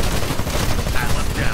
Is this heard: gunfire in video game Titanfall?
yes